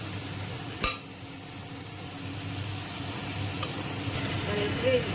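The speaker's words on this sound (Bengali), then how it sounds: "এবার মশলাগুলো মিক্স করতে হবে" Spices stir-fry in a pan with a soft continuous sizzle and scraping, marked by a sharp utensil knock near the start; no speech.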